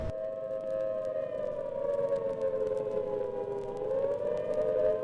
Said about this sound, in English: All the kids in our elementary school would get under the desk as the air raid sirens were blowing.